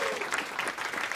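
An audience in a theatre applauds, a brief burst of full, close clapping from a crowd with faint talk mixed underneath.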